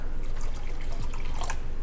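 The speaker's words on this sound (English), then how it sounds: "add some water, stir it up in there" Water poured into a kingfish curing mix of salt and brown sugar, a brief close trickle and splash lasting under two seconds with no talk.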